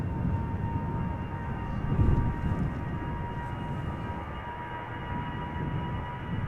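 Ryanair airliner at Amsterdam Schiphol Airport, a steady distant engine roar with a faint tonal whine, holding an even level throughout with a slight swell near the middle.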